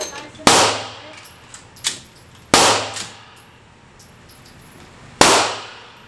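Desert Eagle pistol fired at a shooting range: three loud, sharp, close reports spaced a couple of seconds apart, each followed by a ringing decay and a smaller clank between.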